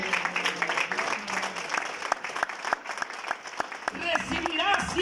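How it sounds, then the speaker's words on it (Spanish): A church congregation at a Spanish-language worship service claps loudly and continuously. The applause is dense and close, with scattered cheers and voices rising near the end. "yo que tú le daba un aplauso a Dios fuerte"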